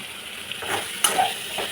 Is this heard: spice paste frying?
yes